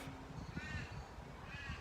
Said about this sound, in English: The birds are starting to get a little bit more active.